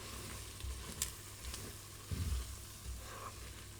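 A seasoned mixture is stirred in a pan with a soft continuous sizzle, with occasional scraping bumps and low thuds from the spoon, close and moderately loud.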